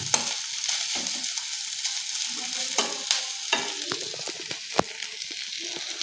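Prawns fry lightly in a pan, a steady close sizzle broken by frequent scrapes and taps of a spatula stirring them, with no talking.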